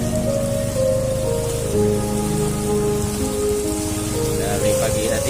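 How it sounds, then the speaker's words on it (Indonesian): Steady heavy rain pours down over a flooded village, a dense continuous hiss of drops drumming on surfaces, close and unbroken, with no voices over it. "hujan pun masih putus nyambung."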